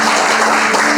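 A church congregation applauds during a sermon, a loud close wash of many hands clapping in a brief, steady burst with no voices.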